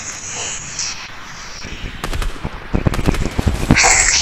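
Gunfire in the video game Fortnite during a fight, a cluster of sharp irregular shots building in the second half over a background of game noise, loud and close.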